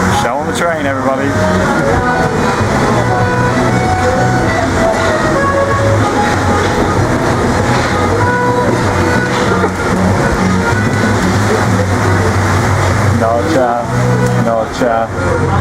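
A Paris metro train rides along with loud, continuous rumble and rattling from the carriage, steady wheel and motor noise filling the space as the ride goes on.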